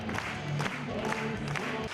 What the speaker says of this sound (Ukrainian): Глядачі кілька хвилин стоячи аплодують